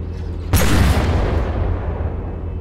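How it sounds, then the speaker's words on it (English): A single deep boom as a cannon fires in the naval-combat game From the Depths, a sudden loud blast that rolls off into a low rumble over a steady engine-like drone. "That should be a fairly decent cannon."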